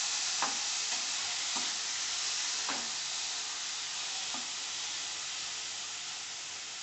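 Grated radish sautés in a hot pan for chutney, giving a steady close hiss of frying. A few soft spatula strokes stir through the sizzle, and no one talks.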